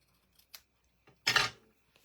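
Scissors snip through card paper at an angle, a few faint light clicks followed by one louder, crisp cut lasting about a quarter second, close and alone.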